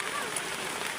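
Rain falls steadily outside a house, a dense, even hiss of drops on surfaces that fills the whole moment at constant loudness, with no talk over it.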